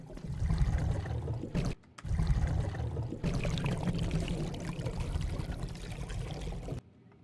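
Water sound effect for a paddle, a steady run of splashing and trickling water with a brief break near the start, before cutting off to near silence at the end.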